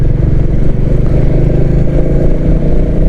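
A Royal Enfield Classic 350 engine runs steadily with a loud, close, even thumping idle and a faint mechanical clatter, without talk.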